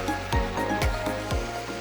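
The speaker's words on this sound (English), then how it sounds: "So let's add in the sauce. Use the whole thing up. And stir it up." Sauce stirred into a pan of beef and broccoli spaghetti, a few wet sloshing swishes and soft thumps in a steady rhythm, close and alone.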